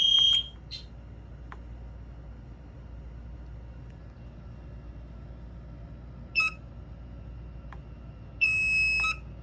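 Smoke alarm beeping during a fire alarm system test, with short sharp tonal chirps at the start, around six seconds and a longer sustained tone near the end, over a low steady background hum.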